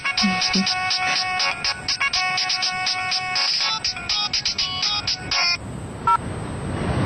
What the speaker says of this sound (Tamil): என் பொண்ணோட ஸ்கூல்ல இருந்து போன் வந்தது